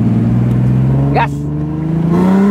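A car's engine during drifting practice holds a close, steady drone that climbs gradually in pitch as it revs. A brief voice cuts in partway through.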